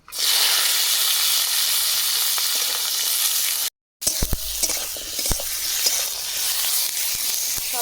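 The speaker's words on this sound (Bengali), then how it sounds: "তেল গরম হয়ে গেছে টমেটো কাঁচা লঙ্কা আদা আর পেঁয়াজ দিয়ে দেবো" Tomato, green chilli, ginger and onion hit hot mustard oil in a pan for a rohu fish curry, a loud steady sizzle that breaks off briefly, then resumes with stirring clatter and crackling.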